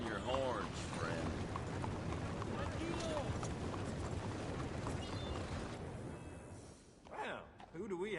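Horse hooves clip-clop across the ground in Red Dead Redemption 2, a steady walking rhythm that runs under constant background chatter and ambient game sounds, with people talking nearby.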